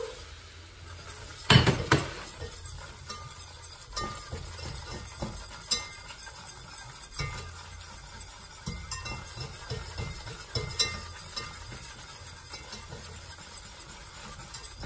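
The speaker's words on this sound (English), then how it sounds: "Start adding flour. Keep on mixing." Flour is stirred into melted butter in a pan to make a roux, with a utensil clinking and scraping against the metal in irregular light taps and a louder clatter near the start, close by and without talk.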